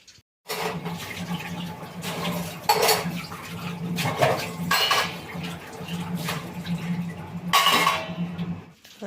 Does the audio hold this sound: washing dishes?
yes